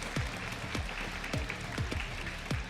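Applause at an LEC League of Legends esports match, a quiet patter of claps with a few distinct heavier claps at regular intervals, fairly faint and without talk.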